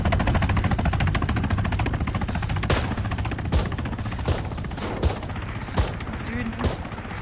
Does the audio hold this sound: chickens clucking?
no